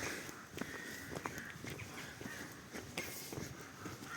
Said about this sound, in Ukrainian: Ворони ще не збираються спати.